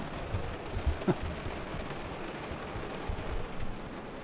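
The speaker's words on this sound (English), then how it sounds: "Absolutely hammered by rain." Heavy rain mixed with hail drums steadily on a van roof overhead on Vancouver Island, a dense close patter with a few louder thumps, no voices.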